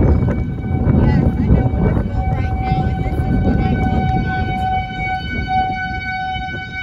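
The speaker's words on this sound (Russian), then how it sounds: "Вот мы с вами наблюдаем сирену от торнадо." A tornado warning siren wails steadily across the whole stretch, its long sustained tones holding over heavy low rumble and background noise during a tornado alert in the USA.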